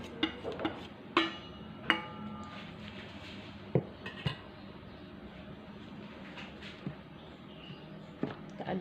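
Wheat flour and rice flour are mixed into pounded shallot and garlic for kangkung fritters, giving soft scraping with a few sharp clinks of a utensil against a bowl, quiet and close.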